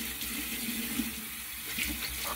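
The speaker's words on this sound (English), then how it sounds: "Wash my hands. Clean my sink." Tap water running into a sink while hands are washed, a steady close rushing stream with slight splashing variation, no talk.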